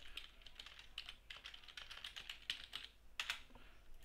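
Computer keyboard keys clack in a quick, irregular run of light taps, fairly close and quiet, with no talking.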